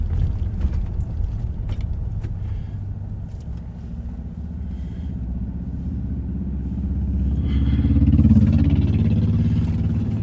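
A Cadillac's engine rumbles steadily, swelling louder as the car passes close by, then easing off; no voices.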